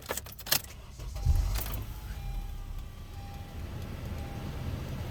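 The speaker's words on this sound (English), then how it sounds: "I gotta turn the car on and turn the AC on." Keys jangle in a few bright rattles, then a car engine turns over and settles into a steady low idle that carries on to the end.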